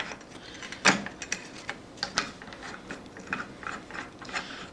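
Tightening the flange nut while mounting a disc on an angle grinder gives a sharp ratcheting click followed by a series of lighter, irregular mechanical ticks and clacks, close and fairly quiet.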